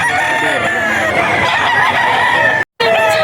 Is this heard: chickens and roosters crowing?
yes